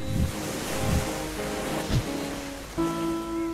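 Ocean waves wash onto a sandy beach in a steady, rolling surge, with a few soft swells and a faint sustained tonal layer running underneath.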